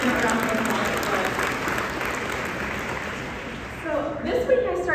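Audience applause at a library association president's award acceptance speech, a broad wash of clapping from a seated crowd that fades near the end as a voice begins to speak over it.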